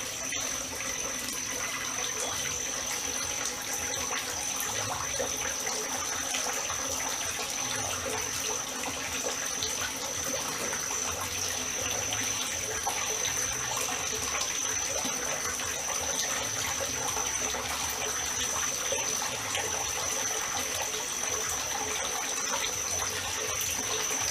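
Running water from a tap filling a tub or basin, a steady, even, continuous rush with a faint high whine running through it, no voices.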